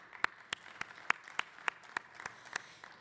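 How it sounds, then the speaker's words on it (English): A small audience at a transit awards meeting gives a thin, faint round of applause: about ten separate sharp claps, evenly spaced and fairly distant, with no voices. "so let's give Morgan a round of applause"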